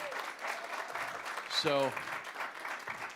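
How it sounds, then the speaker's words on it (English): Applause at a city council meeting, a soft, distant wash of clapping in the hall, briefly interrupted by someone speaking up close partway through. "I would a round of applause for that."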